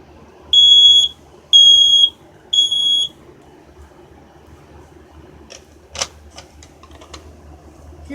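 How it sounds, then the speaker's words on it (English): A First Alert SA303 smoke alarm gives three loud, piercing beeps of about half a second each, close by, followed by quiet room tone and a few faint clicks. "Next up, first alert, model SA303."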